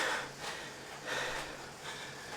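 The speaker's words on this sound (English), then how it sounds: "Heavy breathing." Heavy, rhythmic breathing from a cyclist hauling a big rig uphill, with three loud, close gasping breaths spaced about a second apart.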